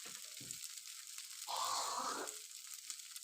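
Egg chow mein being stirred in a frying pan at home, giving a short, soft sizzling hiss that swells for under a second before settling back into quiet kitchen background.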